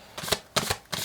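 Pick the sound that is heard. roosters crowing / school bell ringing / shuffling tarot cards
shuffling tarot cards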